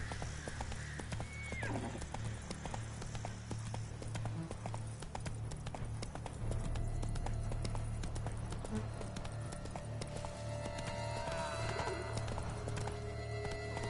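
Hoofbeats of a galloping horse in The Witcher 3, a steady rapid clip-clop running throughout under a game soundtrack, with a brief whinny and the rider's low voice early on.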